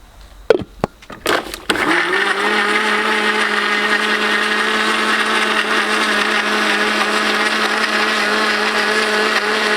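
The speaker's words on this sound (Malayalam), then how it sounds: "ഇതിന് മിക്സിക്കകത്ത് വെച്ച് അടിച്ചെടുക്കാം നമുക്ക്." A mixer grinder blending mango and coconut with water, starting with a few short pulsed bursts and then settling into a loud, steady, high-pitched motor whir that runs on continuously, close by.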